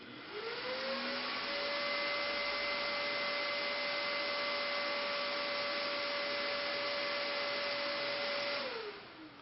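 A VTX3D 7870 Black Boost Edition graphics card fan spins up to full 100% speed, a steady, loud vacuum-like whine with a clear rising tone at the start that holds level and winds down at the end.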